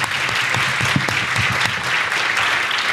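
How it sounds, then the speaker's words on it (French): Dense, loud audience applause closes a French public debate on feeding a city, a continuous wash of clapping from a crowd. "Ça s'applaudit, évidemment."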